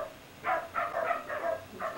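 Dogs barking inside or near an old house: a short run of five or so mid-pitched barks at moderate distance, coming in a loose, agitated rhythm with no talk over them.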